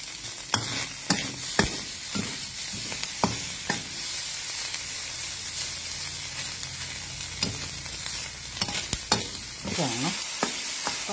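Fish roe mixed with fish meat is stirred in a cooking pan, giving repeated scraping and knocking utensil strokes over a steady soft sizzle, close up with no talking.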